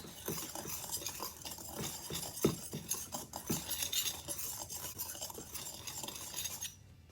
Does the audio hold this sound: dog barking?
no